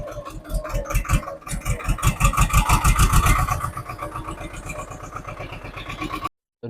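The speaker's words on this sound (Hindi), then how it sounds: "ट्रैक्टर में मार के सेल्फ अब चलते हैं हम।" A tractor engine cranks on its electric self-starter and catches, then settles into a steady, close diesel idle with a chugging low rhythm that gradually eases in loudness.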